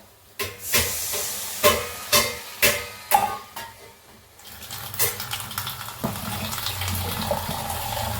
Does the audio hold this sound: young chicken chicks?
no